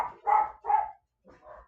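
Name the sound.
dogs barking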